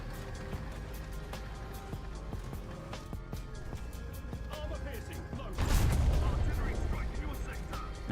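Tank gunfire in an online tank battle game against an IS-4: dense, continuous battle noise with scattered sharp shots, then a loud booming blast partway through that rings on, with no speech.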